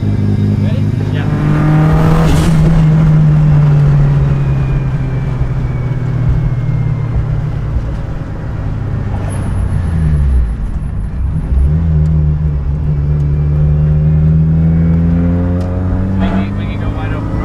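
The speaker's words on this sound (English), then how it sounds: "We can go wide open throttle now too." A car with a newly fitted turbo pulls hard at wide open throttle, its engine note climbing and falling in long rising sweeps, loud and close from inside the cabin, with a faint whistle partway through.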